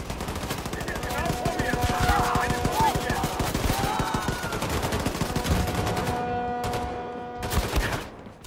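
Repeated shotgun blasts and bursts of gunfire in the wartime shooter The New Colossus, loud and dense throughout with game sound effects, easing toward the end before a final pair of shots.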